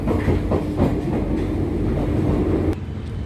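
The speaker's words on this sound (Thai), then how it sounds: "ในรถไฟใต้ดิน" A subway metro train carriage rolls along with a loud, constant rumble and rhythmic clickety-clack of wheels on track, heard from inside the car, before the noise drops suddenly near the end.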